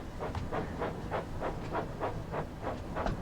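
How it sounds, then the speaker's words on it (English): Thomas the Tank Engine steam locomotive in the Train Sim World video game on the West Somerset Railway, with a steady rhythmic chuffing, about three beats a second, over continuous rumbling running noise, fairly close and no talk. "this is Thomas the Tank Engine on Train Sim World"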